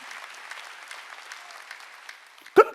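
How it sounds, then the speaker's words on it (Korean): Scattered applause from a church congregation at a Sunday service, fairly soft and even, ending with a single sharp louder knock or thump near the close. "박수야."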